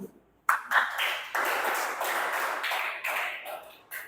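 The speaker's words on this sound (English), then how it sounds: "Clap for him." Students in a classroom clap for a classmate: a burst of dense hand clapping starts abruptly after a brief silence, holds steadily for a few seconds, then thins out at the end.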